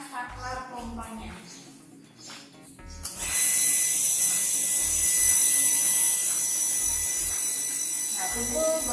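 A pump inside an ion exchanger apparatus switches on partway through, starting a steady broadband motor whir that runs on at a constant level after a few knocks and brief talk at the start.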